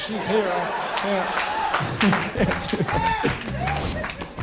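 At a stand-up comedy show, a few audience members clap in sparse, uneven bursts, mixed with chuckles and laughter while a performer keeps talking.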